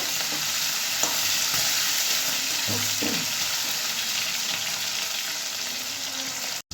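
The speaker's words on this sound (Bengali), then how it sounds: "এবার চিংড়ি মাছটা ভালো করে ভেজে নেব" Prawns frying in a pan of oil with cumin and bay leaves, giving a steady close sizzle. Several scraping stirs come in the first few seconds, and the sound cuts off abruptly at the end.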